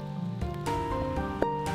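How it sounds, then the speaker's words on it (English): Steady rain falling in a forest in Manistee National Forest, a dense continuous patter and hiss, fairly loud and unbroken, with no voices. "As the rain continued falling"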